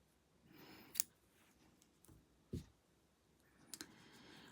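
Scissors snip through crochet yarn in a quiet room: a sharp click near the start, a duller thud midway and a quick double snip near the end, each brief and isolated.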